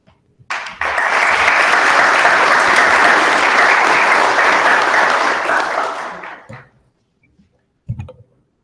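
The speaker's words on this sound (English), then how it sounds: "Let's give our panelists a round of applause." An audience at a debate on God, heaven and hell claps for the panelists, a loud, dense burst of applause that swells at once, holds for several seconds and then dies away, followed by a couple of faint knocks.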